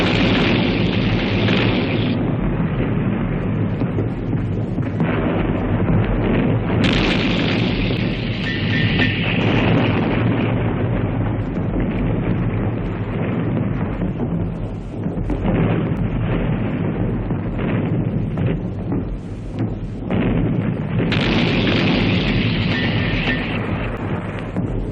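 Dense artillery barrage pounding Italian trenches, dugouts and shelters during a First World War Austro-German mountain offensive, a continuous loud roar of blasts and rumbling booms with no pauses.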